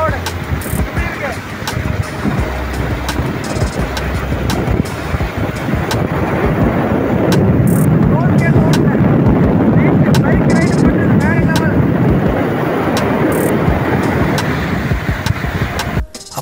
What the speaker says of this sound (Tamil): அப்படியே காத்து சும்மா சிலு சிலு சிலுன்னு வீசுது.